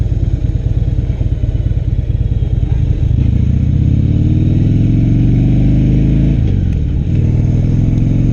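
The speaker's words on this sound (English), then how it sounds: "that rumbling that you feel in the handlebars and on that engine" A 2016 Harley-Davidson Low Rider motorcycle engine idles with a loud, throbbing rumble, then revs up and settles, staying close and steady throughout.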